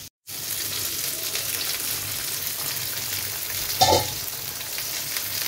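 Chorchori, a Bengali mixed vegetable dish, sizzles steadily and loudly in a pan close by, with a brief louder clatter of stirring partway through and no talking.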